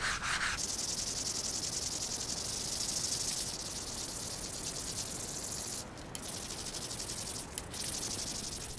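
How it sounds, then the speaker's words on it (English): Hand sanding of an antique metal laundry rack with a 120 grit sanding sponge: a continuous close, dry scratchy rubbing that runs steadily throughout, with a few brief breaks in the stroke. "I just got a 120 grit sponge, so it kind of conforms to the shape of this. I'm just going to sand them."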